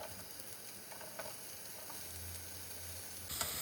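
Chopped onion frying in hot oil for a veg momos filling, a steady soft sizzle with light stirring scrapes, close and unbroken, no voices.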